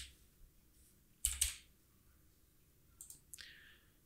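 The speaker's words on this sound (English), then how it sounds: "So I'm typing something like, maybe let's call this" Keys click softly on a computer keyboard while text is typed, a few quiet, scattered taps in a hushed room with no voices.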